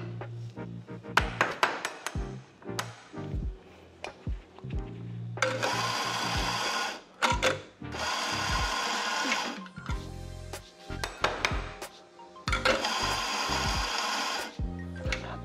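An espresso coffee grinder set to a coarser grind runs in three loud, whirring bursts of a few seconds each, separated by clicks, taps and knocks from handling the machine.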